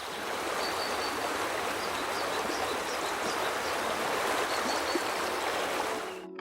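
Steady, continuous rush of a river flowing in the Guardians of the Galaxy game, loud and even throughout before cutting off at the very end, with no voices.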